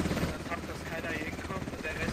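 A helicopter in the Squad combat video game drones steadily with a rotor thump, partly under excited talk from a player.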